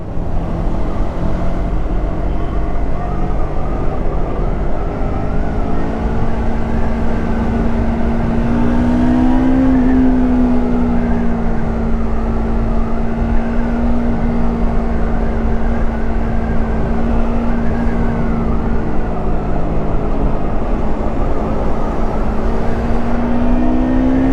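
Bristol Assassin R400 manual motorcycle engine revving steadily as it picks up speed on a ride, a continuous loud drone with a rising pitch partway through and no voices.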